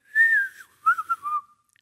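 A person whistles to imitate a bird call: two short bursts of clear, warbling whistled notes, the first a single held phrase and the second a quicker broken series of three or four chirps, close and fairly loud with no talking.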